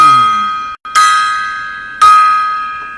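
A gong is struck twice about a second apart, each hit a loud, bright metallic crash that rings on and slowly fades, following a brief lower tone at the start.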